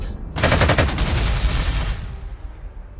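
Bombing attack in the strategy game Panzer Corps 2, a loud burst of rapid explosive gunfire-like blasts that rolls for about two seconds, then fades into a low rumbling tail.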